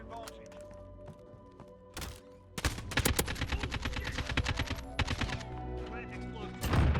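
AK-47 gunfire in the video game Modern Warfare, a couple of isolated shots and then a sustained rapid burst of automatic fire, loud and close over game sound, with a player talking throughout.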